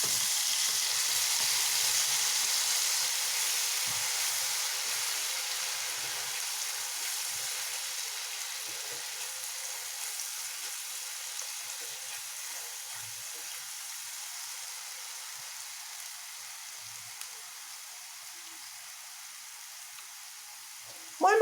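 Onion, ginger, garlic and mustard seed gravy frying with cumin in oil, a soft, steady sizzle that slowly fades over time, with faint stirring clicks and a brief sharp knock at the end.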